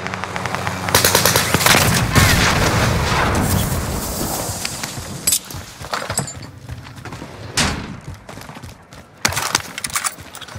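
Gunfire in Call of Duty: Modern Warfare, loud bursts of rapid automatic shots and single cracks, close, with pauses between volleys.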